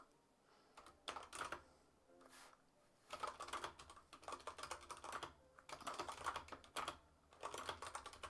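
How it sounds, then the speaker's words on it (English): Computer keyboard typing in bursts of rapid clicking separated by short pauses, close to the microphone and fairly quiet, with no talk. "I'm so sorry for the typing noise."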